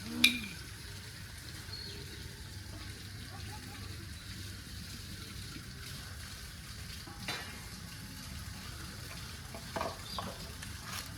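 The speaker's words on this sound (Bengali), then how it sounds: "এবারে ভালো করে ম্যারিনেট করে নেবো" Chicken pakora marinade with spices, cornflour and chili sauce is stirred by hand in a bowl, making a steady, soft, wet mixing sound that continues evenly throughout.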